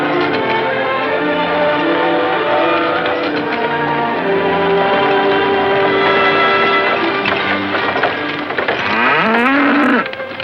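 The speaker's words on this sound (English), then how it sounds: "My cow, thanks." Cattle on a western frontier homestead low in long, drawn-out moos that fill the scene, loud and close, with a shift in tone near the end.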